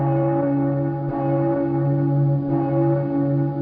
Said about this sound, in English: a bell started ringing, slow at first, then faster and faster